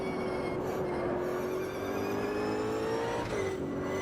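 A race car in the sim game Automobilista accelerates with its rear tyres spinning, engine whining steadily upward in pitch, then briefly dipping and recovering near the end, heard close and alone.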